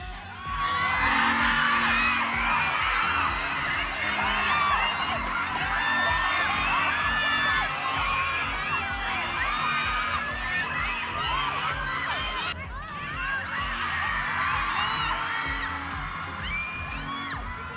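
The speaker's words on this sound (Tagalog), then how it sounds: "Dili na mahimutang ang crowd" A crowd of fans cheering and whooping at a Kapuso mall show performance during Araw ng Dabaw in Davao, a dense, continuous roar of shrieks and shouts sustained throughout.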